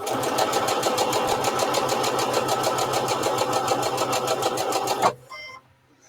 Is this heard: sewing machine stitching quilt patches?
yes